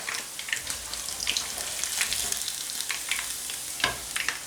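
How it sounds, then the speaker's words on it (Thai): Tubtim tilapia frying in hot oil gives a close, crackling sizzle with frequent sharp spitting pops and bursts that rise and fall unevenly, with no one speaking. "ตอนนี้นะคะป้าก็ทอดปลาของป้า"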